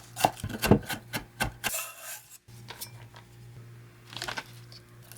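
Quick, rhythmic knife taps on a cutting board as shallots and garlic are finely minced, pausing briefly before a softer, slower round of chopping.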